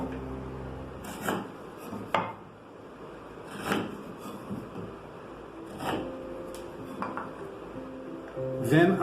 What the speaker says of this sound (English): the first thing that is to be done is to mark the length of the tenons, which I do with this gauge